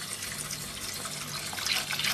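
Water pours over shredded orange peel in a cooking pot, a steady close splashing that grows slightly fuller toward the end, with no voices.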